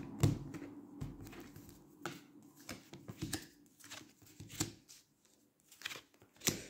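Tarot cards are shuffled by hand to draw three, a series of crisp riffles and soft slaps with irregular pauses, close and alone with no talking.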